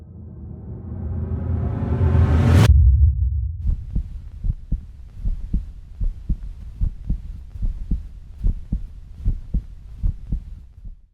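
A rising whoosh swells and cuts off, then a steady heartbeat sound effect follows with about sixteen deep, even thumps, loud and alone.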